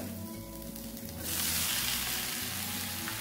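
Dal frying in hot oil as garlic, onion and tomato go in for a tomato kara chutney, with a steady close sizzle that swells louder as the ingredients hit the pan.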